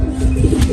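A single brief, low pigeon coo sounds close by at a pigeon keeper's loft.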